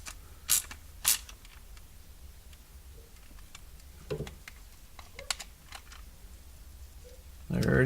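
Faint clicks and creaks as a part is turned clockwise by hand and screwed in on a Mazda MX-5 air bag warning overlay install, with a few sharper taps scattered through near-quiet.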